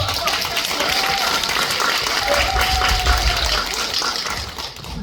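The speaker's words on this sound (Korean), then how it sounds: "우리 이명세 감독님께 뜨거운 박수" An audience at a film screening Q&A applauds the director, a dense wash of clapping with a few tonal voice traces over a low rumble, sustained and fairly loud throughout.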